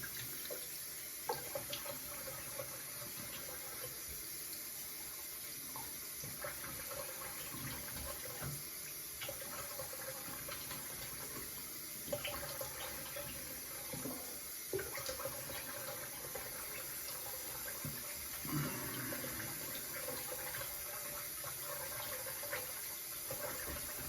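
Water runs steadily from a tap for rinsing after a shave, a continuous close splashing flow with small clinks, no voices.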